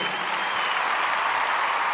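Steady, loud applause from a concert audience fills the whole stretch, a dense, even wash of clapping with no breaks.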